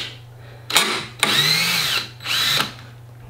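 A power drill whirs in three bursts, each about half a second to a second long, loud and close, with a steady hum between them, as the bit stalls while assembling a couch.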